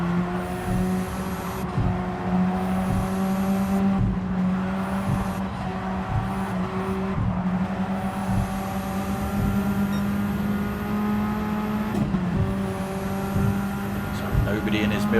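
Race cars on the Tokyo Expressway circuit in a racing video game, engines droning and whining through rising and falling revs as they brake and accelerate, under steady live race commentary.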